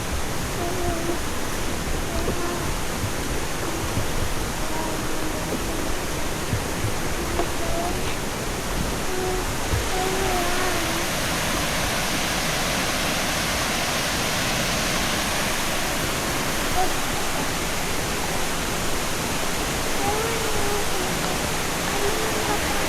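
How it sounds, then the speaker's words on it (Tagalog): Pahangog Twin Falls in Dimiao, Bohol pours in a steady, dense roar of falling water that fills the whole stretch evenly, with no break or change in level. "dito na kami sa Twin Falls. Pahangog Twin Falls."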